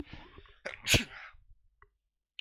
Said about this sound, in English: I had to randomly sneeze